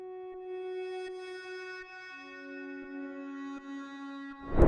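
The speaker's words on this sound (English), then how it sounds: "This is a preset from Prophet VS5." The dry, unprocessed Prophet VS5 synth preset Artistic Facts plays a sustained tone that steps down in pitch midway, clean and fairly quiet with rich harmonics, ending in a brief burst of noise.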